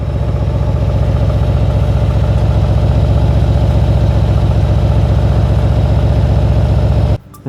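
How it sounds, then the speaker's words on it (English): Exhaust of a 2019 Mercedes-AMG GLC 63 S 4MATIC+ SUV idling, a loud, steady low rumble with an even pulsing beat held close up for about seven seconds before cutting off abruptly. "So let's hear the exhaust at idling."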